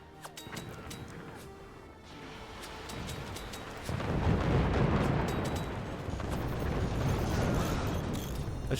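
Missiles launching in the video game Forts, a building roar of booming launches and crashing impacts, loud and dense, with scattered sharp clanks and mechanical noise throughout.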